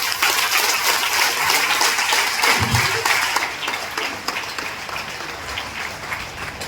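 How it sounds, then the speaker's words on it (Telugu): An audience at a meeting in Kothapet gives a grand round of applause, a dense, continuous wash of clapping that holds steady and then eases off slightly toward the end. "ఒకసారి గ్రాండ్ క్లాప్స్."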